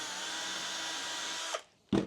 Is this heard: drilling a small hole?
yes